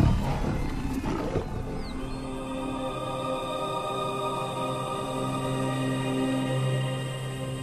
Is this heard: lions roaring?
yes